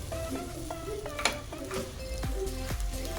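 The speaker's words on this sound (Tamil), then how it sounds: "ஜென்டிலாக இதை நம்ம கிண்டி கொடுத்துக்கலாம் எல்லா பக்கமும் இந்த ரைஸில் இது கலந்து வரணும்" Peanut rice being stirred gently in a pan, with a spoon scraping and turning it in a steady rhythm of soft scrapes and light clinks over a continuous low sizzle, close and moderately loud.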